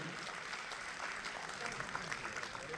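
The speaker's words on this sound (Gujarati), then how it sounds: "જોરદાર તાળીઓ સાથે આપણે વધાવતા રહીએ" Faint, steady applause from a crowd, a continuous patter of clapping with no clear breaks.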